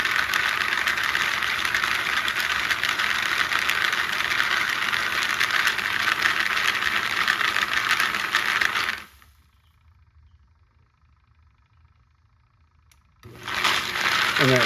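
A brass prep machine spins continuously at its lowest speed setting, a steady close mechanical hum and whir that runs for about nine seconds, then cuts to near silence for several seconds before starting up again.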